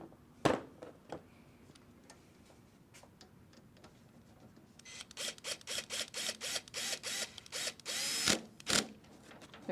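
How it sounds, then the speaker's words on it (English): A power drill runs in short bursts as it drives a screw, quiet ticks at first, then a rapid series of loud whirring pulses building to a longer grind. "grab my drill"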